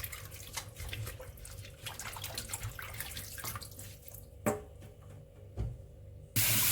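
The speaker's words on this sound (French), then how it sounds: "On rince à l'eau courante et ensuite, on laisse pour que ça s'étore tout seul." Ingredients for Korean sauces are rinsed under a running kitchen tap, water splashing and pattering steadily into the sink with a few louder knocks and a sudden gush near the end.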